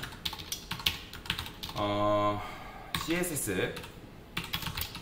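Keys clack on a computer keyboard during a jQuery lesson, bursts of quick close keystrokes broken by pauses, while someone speaks Korean over and between the typing.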